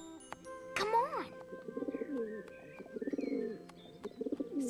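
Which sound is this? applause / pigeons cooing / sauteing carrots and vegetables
pigeons cooing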